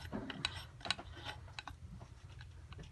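Outer flange nut screwed down by hand onto a cutting disc on a Hyper Tough 20V angle grinder, with faint close metallic ratcheting clicks and light rattling in a quiet room.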